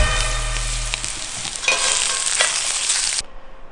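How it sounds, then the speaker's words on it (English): Chili peppers roasting over an open fire for a fire-roasted salsa give a loud, steady crackling hiss, with a low rumble in the first second, until the sound cuts off abruptly. "I'm going to finish roasting up all this chili"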